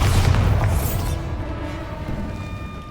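Bombarda spell detonating in Hogwarts Legacy, a loud, heavy boom at the start that rolls off into a fading rumble with faint ringing tones afterward.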